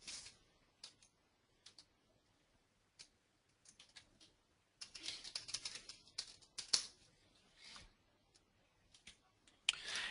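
Someone types a web address on a computer keyboard, producing faint, scattered key clicks that come in short irregular bursts with quiet gaps between them in a quiet room.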